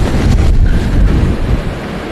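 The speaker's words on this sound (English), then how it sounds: "It's been an incredibly windy day today." Strong wind buffets the microphone outdoors on a gusty day during a rhino relocation, a steady low roar with rushing gusts throughout and no other clear sounds.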